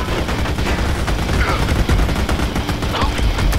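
Rapid video-game gunfire from Army of Two crackles in dense, overlapping bursts with occasional sharper cracks, a continuous loud fusillade over a few seconds.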